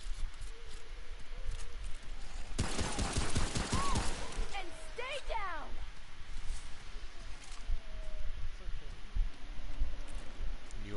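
Rapid burst of gunfire from a starter weapon in the video game Remnant, a dense volley of shots lasting about a second and a half amid game ambience, with other game effects following.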